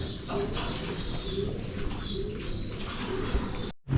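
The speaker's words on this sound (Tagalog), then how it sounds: "So ayan po ang ating mga ibon." Pigeons or doves coo repeatedly at a breeder's bird area, a steady soft murmur of calls with occasional chirps and wing flutters, close and continuous until a brief cutoff near the end.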